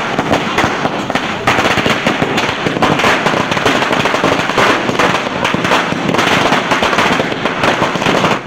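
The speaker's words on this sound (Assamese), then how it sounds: "ইয়াৰ পিছতে এইদৰে ফটকা ফুটাইছে এওঁলোকে" Firecrackers set off by local people during an out-of-season Diwali-like celebration in Jagiroad, Assam, crackle and pop densely and continuously, loud bursts overlapping throughout with no talk.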